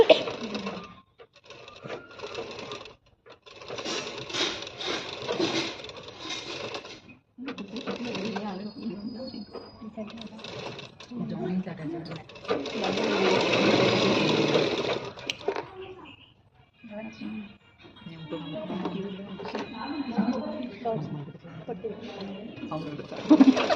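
Sewing machine stitching cloth, its whirring runs come in bursts of several seconds, the longest near the middle, while people talk on and off around them.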